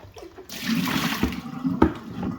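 Aquarium sponge filter squeezed once, releasing a brief gush and splash of water with a few sloshing drips, close by and alone.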